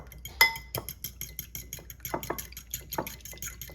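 Two eggs being whisked in a dish, a run of quick, light clinks and scrapes of utensil against the bowl in an irregular rhythm, close and fairly quiet with no talking.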